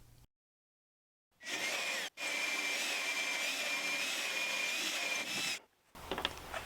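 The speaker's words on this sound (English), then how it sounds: "Use a 1 inch or 25 millimeter hole saw to drill out the hole" A power drill whines steadily for several seconds as a 1-inch hole saw cuts through a wooden door, with a brief stop partway through before it resumes.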